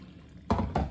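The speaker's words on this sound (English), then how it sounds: "Pour some water in it, as we do." Boiled water from a kettle is poured into a Pot Noodle pot, heard as two short, close splashing bursts of liquid about a quarter second apart.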